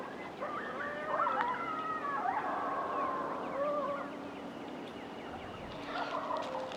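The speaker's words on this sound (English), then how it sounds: "The coyotes are back over there." Distant coyotes howling and yipping in long wavering tones near San Antonio, mixed with nearby turkey gobbles in an open outdoor setting.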